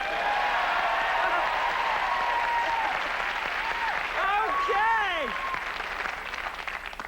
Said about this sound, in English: I want to just test out the applause sign right here